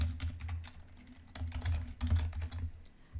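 Fast, close typing on a computer keyboard, bursts of crisp clicks in uneven clusters over a low hum, with no voices.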